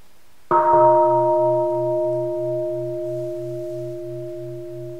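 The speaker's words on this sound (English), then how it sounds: "Maybe a bell." A single bell is struck once, loud and close, leaving a clear ringing tone that hangs and slowly fades, with a steady pulsing shimmer beneath it.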